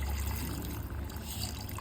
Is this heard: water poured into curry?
yes